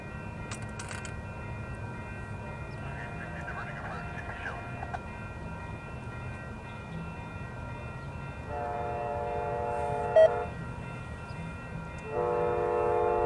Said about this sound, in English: Officer Carl, Amtrak 583 up.